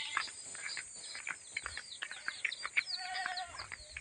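Goats on a farm where a pair of young kids were recently born, with short bleats and calls scattered across a busy barnyard alongside clucking fowl, fairly close and moderately loud, with no talking.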